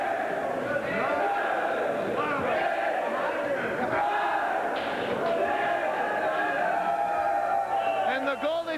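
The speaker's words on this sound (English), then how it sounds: "You can hear the crowd." A wrestling crowd at a squash match yells and cheers in rising and falling waves while a commentator talks over the noise throughout.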